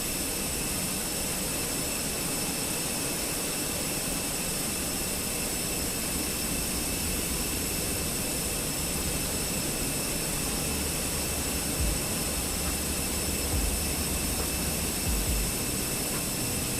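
A TBM 930 turboprop engine in a flight simulator game, flying in the K2 mountain range, gives a steady, loud, unbroken drone with a high whine running throughout.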